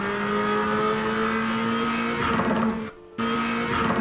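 A 2024 Acura Integra Type-S engine holds a steady, droning note with a rising tone near the end, interrupted by a brief cut of near silence before the engine sound resumes.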